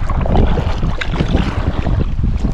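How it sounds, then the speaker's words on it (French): Strong wind blows against a kayak and buffets the microphone in a continuous rough roar, with river water and paddling noise mixed in close by. "il y a pas mal de vent qui souffle contre nous"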